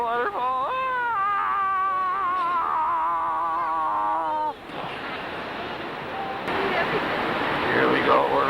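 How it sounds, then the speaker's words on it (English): A waterfall's rushing water roars steadily throughout, heard while riding down a river in Oregon, with a voice speaking over it at first before the water noise takes over. "Oh no, I hear a waterfall."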